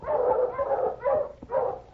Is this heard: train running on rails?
no